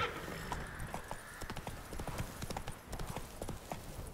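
Horse hooves galloping in The Witcher 3 video game, a fast steady clip-clop rhythm that carries on throughout, close and fairly loud, with a brief whinny-like sound at times and no talking.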